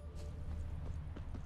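Horse hooves clip-clopping in the video game The Witcher 3, a quick run of hoof beats over a steady low background, fairly close and moderately loud.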